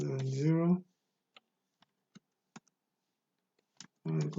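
Sparse, isolated keystrokes on a computer keyboard, a handful of faint separate clicks spaced through a quiet pause between bursts of speech at the start and end.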